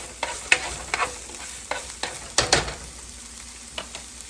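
Steady sizzling of breakfast fried rice frying in a hot pan, with several sharp bursts of scraping and stirring at irregular intervals.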